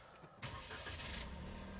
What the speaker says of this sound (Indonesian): Sekarang langsung saja kita nyalakan mesinnya.